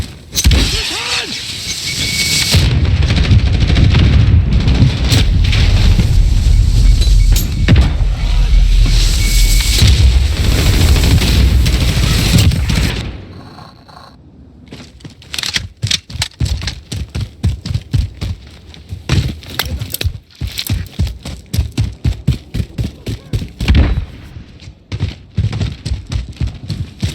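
A grenade explodes in Call of Duty: Modern Warfare: a loud, sustained booming blast that rumbles for several seconds, then cuts off and gives way to rapid, sharp bursts of gunfire.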